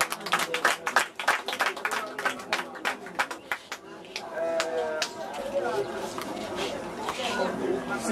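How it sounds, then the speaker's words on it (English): Guests clap for the couple at a traditional Nigerian wedding, with a burst of sharp, rapid handclaps at the start that gives way to crowd chatter and voices over steady background noise. "Make una dey clap for them"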